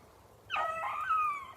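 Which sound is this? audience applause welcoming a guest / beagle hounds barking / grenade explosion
beagle hounds barking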